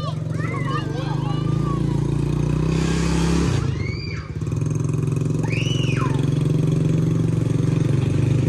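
A 125cc ATV engine revs up as the throttle is twisted, a loud steady drone rising and holding nearly throughout, with a brief dip midway and some background voices.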